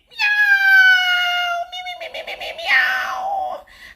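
A cat gives a long, loud, drawn-out meow up close, then a shorter wavering second meow after a brief rustle, with no other sounds.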